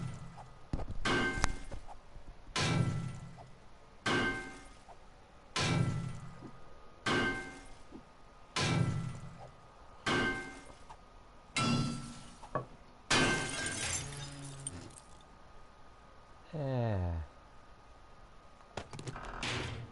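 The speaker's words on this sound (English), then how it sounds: "Let's get some of these safes smashed open." Safes smashed open in the video game 7 Days To Die: about nine loud, evenly spaced crashing, shattering impacts roughly every second and a half, each a short burst of breaking clatter, with a brief squeaky rattle near the end.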